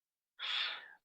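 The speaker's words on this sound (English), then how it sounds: "Heavy breathing on the mic" A single breathy exhale blows against a close microphone, about half a second of rushing air that fades out after a moment of silence.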